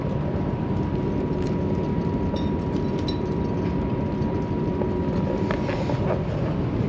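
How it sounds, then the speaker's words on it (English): A Trenitalia Frecciarossa 1000 high-speed train running between Bari and Florence, heard from the executive-class cabin. A steady, dense rolling rumble and hiss continues throughout, with a faint tonal whine and a few light clicks and rattles. "We are riding this train from Bari to Florence"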